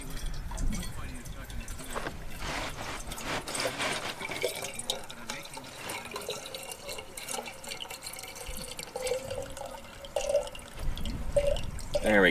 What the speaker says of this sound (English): let's fill her up and get some more water to avoid heat exhaustion